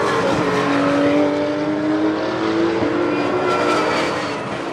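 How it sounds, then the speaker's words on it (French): Porsche race cars and other racing cars at full speed on the Paul Ricard circuit, a loud continuous engine roar with shifting whining pitches as cars pass close by, steady throughout with no talk. "En tête, on retrouve la Porsche numéro 7 pilotée par Olivier Favre"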